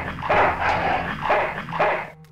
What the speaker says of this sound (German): Ziemlich verhaltensgestörter Köter.